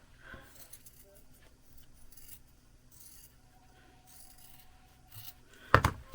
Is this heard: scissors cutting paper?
yes